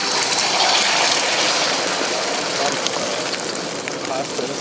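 Beaten egg poured into a hot, smoking wok, a steady loud hiss and sizzle that starts strong and holds for several seconds, nearly alone.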